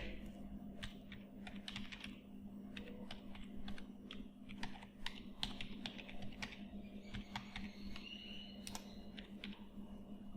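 Keys tapped in quick irregular bursts on a computer keyboard while a web address is entered into Marg ERP software, close and steady over a constant low electrical hum.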